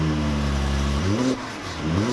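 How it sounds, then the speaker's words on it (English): A 2018 Mercedes-Benz E400 coupe's 3-liter bi-turbo V6, paired with a 9G-tronic transmission, revs loudly and close up, climbing in pitch twice with a brief drop between, with no talking. "So now that we've heard how the 3-liter bi-turbo V6 sounds"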